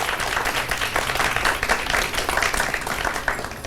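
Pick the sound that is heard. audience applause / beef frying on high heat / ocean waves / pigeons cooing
audience applause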